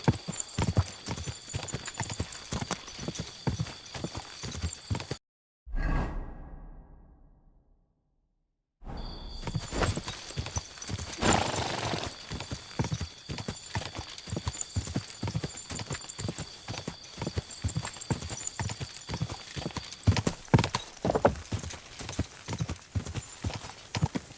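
Horse hooves clip-clop in a fast, steady rhythm on a trail in Kingdom Come Deliverance 2, with the odd neigh. The hoofbeats break off into a short silence and a fading whoosh, then the gallop starts again.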